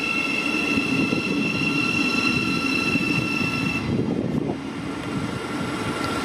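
A Thameslink electric train at Peterborough station hums steadily with a high electric whine and rumbling wheels, close and loud, easing slightly near the end.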